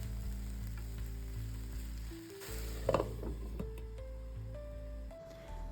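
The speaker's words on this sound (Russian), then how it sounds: "И как только лук стал золотистым, добавляем морковь." Onion and carrot frying in a pan, a steady close sizzle with scattered stirring scrapes and a brief louder clatter near the middle.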